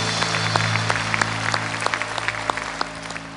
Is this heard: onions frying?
no